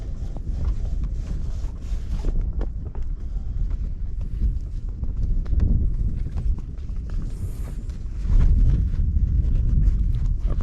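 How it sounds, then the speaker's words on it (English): Steady gusting wind roars against the microphone on a sailboat anchored during Hurricane Kay, with repeated flapping and thumping of a flag close by, growing louder toward the end. "That flag is only 2 months old, and it's been bashing around in the wind"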